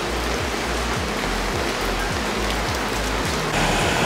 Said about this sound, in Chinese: 依家咧好似有少少落雨